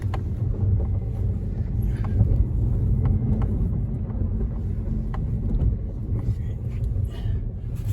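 Suzuki SX4 with a new clutch on its first test drive through snowy, cold streets, heard from inside as a steady low engine and road rumble with some wind buffeting.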